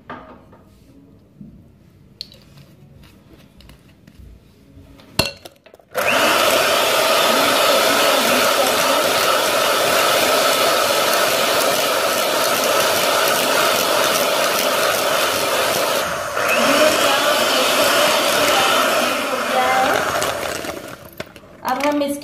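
An electric mixer beats eggs with vanilla essence for a marble cake. After a quiet start with a few knocks, it starts up loud and runs as a continuous whirring drone with slight changes in pitch.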